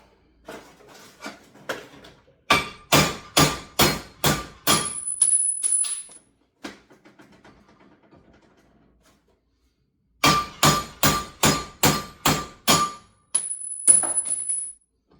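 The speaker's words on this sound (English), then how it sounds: "Give it a couple little whacks there, and boom, she's out" A big hammer whacks a metal part to knock it loose: a run of about eight sharp, ringing metallic strikes in steady rhythm, then a pause with faint rattling, then another similar run of strikes, close and loud.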